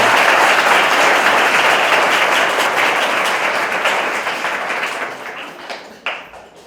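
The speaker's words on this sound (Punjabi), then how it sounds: "ਜ਼ੋਰਦਾਰ ਤਾਲੀਆਂ ਨਾਲ ਸਾਰਿਆਂ ਨੂੰ ਬਹੁਤ ਬਹੁਤ ਮੁਬਾਰਕ" A congregation at a first Advent Sunday Mass applauds loudly after the candle of hope is lit, dense close clapping that gradually thins and fades toward the end.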